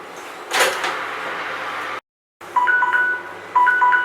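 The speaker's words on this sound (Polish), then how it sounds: "Timer już dzwoni, więc e, czas już minął." A kitchen oven timer rings near the end of a 45-minute bake at 220 degrees, giving short repeated electronic beeps in two bursts after a brief gap, over steady room noise.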